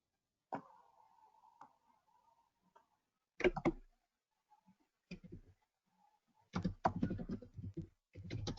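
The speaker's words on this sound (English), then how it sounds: "I heard you typing actually, which is quite funny." Typing on a computer keyboard comes through faint and intermittent, with scattered clicks and short bursts of tapping separated by near silence and a low hum.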